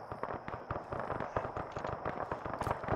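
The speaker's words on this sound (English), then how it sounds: "Getting shot from east." Gunfire in the military game Arma 3, a steady crackle of distant shots and bursts at moderate volume, with repeated sharp pops through the whole stretch.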